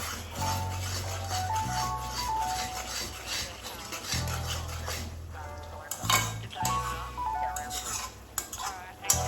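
A utensil scrapes and clinks against a pan while food sizzles softly underneath, with a low steady hum in the background.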